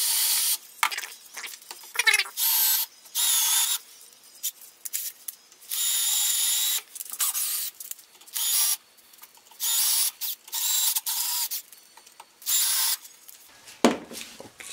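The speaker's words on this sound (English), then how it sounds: "So there's all 6 rivets drilled out." A power drill bores out the six rivets on a drive-by-wire throttle body held in a vise, with loud, close bursts of high whine lasting one to two seconds, separated by short quiet pauses and a final clunk.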